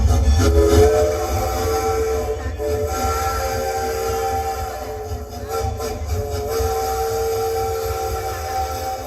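A train stands at a railway station, with a steady low rumble of engine and wagons and a faint drawn-out whistle tone over it, continuous and fairly loud.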